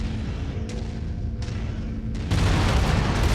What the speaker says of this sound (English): Let them know that Sumeru can actually do bombing runs.